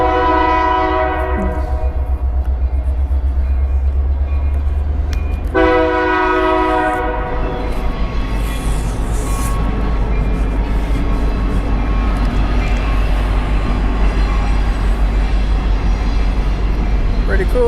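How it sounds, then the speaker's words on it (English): An Indiana Railroad container train rumbles past loudly and close, its horn blaring in two long blasts over the constant heavy roar of the wheels. "maybe the train horn here in a second won't be so loud"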